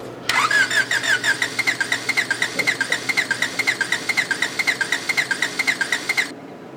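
An engine with a blown head gasket cranks over steadily for about six seconds, a loud, close, rhythmic chugging starter whir with even pulses, then it stops without catching.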